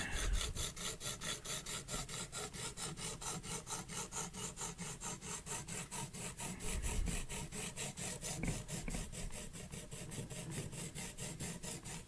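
A knife blade is stroked back and forth on a coarse sharpening stone in steady, rhythmic rasping passes, about two per second, close and quiet, with no talking.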